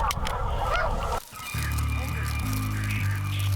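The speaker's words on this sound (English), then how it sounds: "because the geese are coming." Wild white geese honk repeatedly in a brief rising clamor, mixed with music and a voice, the calls coming quick and overlapping.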